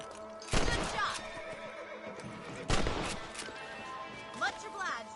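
Horses neigh and whinny in the Red Dead Redemption video game, with two loud, sharp calls over a steady background of hoof clip-clops and ambient game sound.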